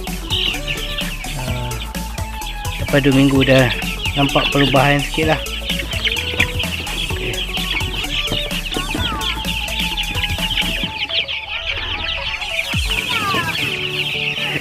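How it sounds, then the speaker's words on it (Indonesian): Chickens cluck and crow loudly and continuously nearby, a busy flock chorus, while someone talks over them. "Ini ayam kita."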